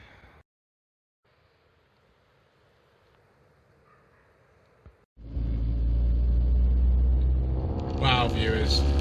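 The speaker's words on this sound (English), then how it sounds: "Alright, I think it's time to go for a little drive" A 1991 Austin Montego Estate 2.0 Countryman starts up midway and runs loud and close, with a steady low engine drone from inside the car. Before that there is only a faint quiet hum.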